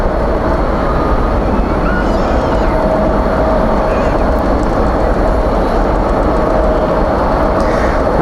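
A UPS Boeing 747 at DFW airport at night throws out a loud, continuous jet roar that stays full and steady for the whole stretch, with a faint higher whine riding on top.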